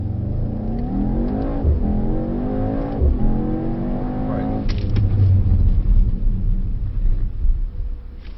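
A Mercedes-AMG GT63S accelerates hard on a track, its engine rising in pitch through the gears in a loud, close, continuous roar with a brief dip at a gear change.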